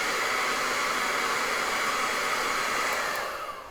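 A hair dryer blows steadily and loudly to dry wet paint on an eagle painting, a constant close-up whoosh that eases off slightly in the last moment.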